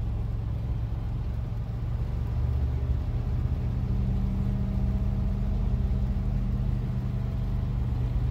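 A 1971 Cadillac Coupe DeVille cruising at 70 mph as the throttle is eased on, giving a steady, loud low engine and road drone with a constant rumble and no talk.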